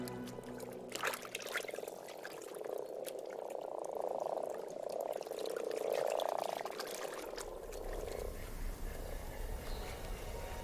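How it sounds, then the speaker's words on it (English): Chorus of frogs croaking in spring after hibernation in the Harz region of Germany, a dense continuous mass of overlapping calls swelling in the middle and easing off, with no talk. "Frogs awaken from hibernation with only one thing on their mind."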